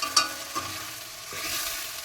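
A spoon scrapes and stirs ground spice paste with tomato and ginger sizzling in a pan for soybean kofta curry, with a steady soft frying hiss and a few clinks.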